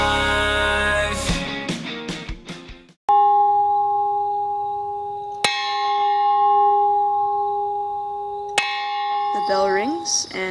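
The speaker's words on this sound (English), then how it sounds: "The bell rings, and we are getting up and getting ready for prayer time at 6 together as community." Morning bell at a religious community rings for 6 a.m. prayer, sounding as clear sustained metallic tones after a brief stretch of music. Fresh strikes renew the ringing twice, and each one fades slowly.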